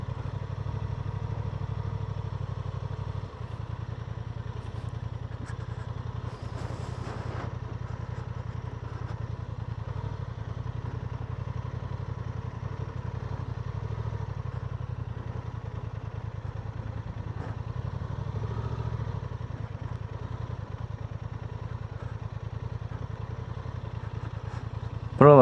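A Honda Transalp motorcycle rolls into a meadow beside a lake on a Western Black Sea highland ride, its engine holding a steady low idle-like drone throughout with light clatter and no talk.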